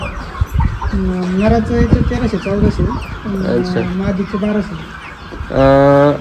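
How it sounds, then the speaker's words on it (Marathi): Kaveri breed chickens, about 75 days old, cluck repeatedly nearby on a farm, with one bird giving a louder drawn-out call near the end, while a person speaks briefly over them. "हा जो कावेरी पक्षी आहे"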